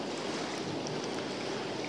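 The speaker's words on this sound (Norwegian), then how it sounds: "Litt mer fart i elva enn i sommer." A fast-flowing river in early autumn, its steady broadband rush filling the scene continuously at moderate level, with no voices present.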